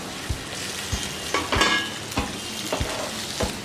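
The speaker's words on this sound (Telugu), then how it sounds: "ఇవి ఫ్రై అయిపోయాయి ఎగ్స్ అండ్ ఆనియన్స్" Boiled eggs and onions fry in a pan, with a steady sizzle under repeated sharp scrapes and taps of a spoon stirring, close and moderately loud.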